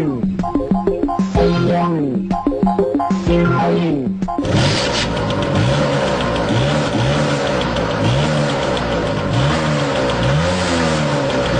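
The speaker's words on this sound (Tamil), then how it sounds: "இவன் வண்டிய ஸ்டார்ட் பண்ணானா இன்ஜின்ல பயங்கர நாய்ஸ் வருது" A vehicle engine in a Tamil comedy sketch cranks with choppy bursts, then settles into loud, close, wavering revving with rising and falling swells that rattle on throughout.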